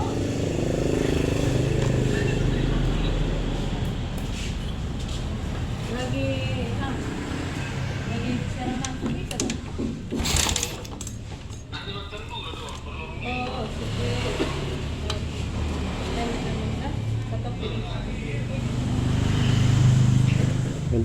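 A Suzuki Smash motorcycle engine idles after being kick-started, a steady close putter running throughout with a brief clatter midway and someone talking over it.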